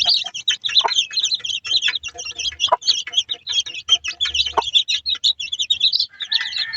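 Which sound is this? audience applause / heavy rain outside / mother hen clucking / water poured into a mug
mother hen clucking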